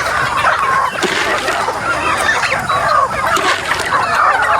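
A large flock of farm chickens gobbling up scattered feed, a loud, dense, continuous din of clucking, pecking and rustling close by, with no talking.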